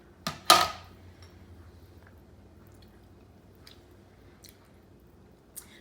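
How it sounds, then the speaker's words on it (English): A couple of sharp, close crunching bites into fresh summer side salad, followed by quiet soft chewing and faint scattered clicks in an otherwise hushed room. "Let me just taste it for seasoning."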